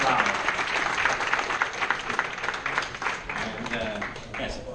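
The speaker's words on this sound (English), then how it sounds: "please give me one round of applause" Audience applause after a presentation at a fashion innovation event, a dense steady wash of clapping lasting throughout, fairly loud, with some voices mixed in underneath.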